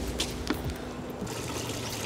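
Water trickles and pours steadily into a tank of garden pesticide solution, a continuous close splashing wash with no talking.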